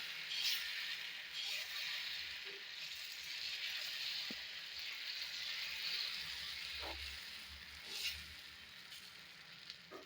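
Ghee-brushed batter frying on a hot pan for a village-style home meal, a steady soft sizzle throughout with faint occasional utensil clicks, no talking.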